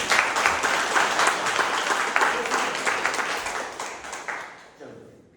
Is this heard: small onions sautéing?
no